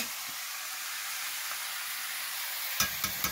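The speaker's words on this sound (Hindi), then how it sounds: "तो अब सब्जी इसमें डाला जा रहा है" Pahadi lai greens fry in hot oil with roasting fenugreek seeds, giving a steady, close, hissing sizzle throughout, followed by a few sharp stirring clicks at the end and no talking.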